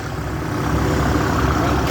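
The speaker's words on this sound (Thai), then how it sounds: "เดี๋ยวผมขับรถไถนี่ดูก่อน" Tractor engine idling on a Thai farm, a steady low diesel rumble with a regular throbbing pulse, close and continuous with no talk over it.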